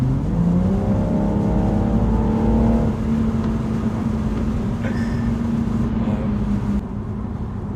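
A BMW M135i with an automatic gearbox and paddle shifters accelerating hard, its exhaust droning loud and close as the engine note climbs steadily in pitch before settling into a sustained roar.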